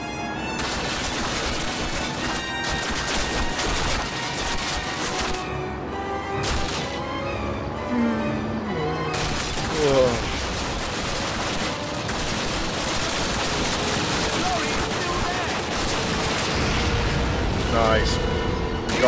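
Continuous gunfire and booming blasts in a Call of Duty battle roll on without pause for about nineteen seconds, loud and dense, with a voice talking over the combat throughout.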